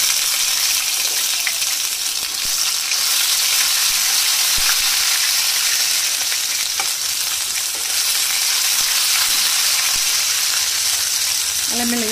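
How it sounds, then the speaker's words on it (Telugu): Ginger and garlic sizzle in hot oil in a pan for an egg curry, a steady bright frying hiss running throughout with faint stirring clinks. "ఆయిల్ కాగింది. ఇప్పుడు మనం దీనిలో కొంచెం అల్లం ఎల్లిగడ్డ వేద్దాము."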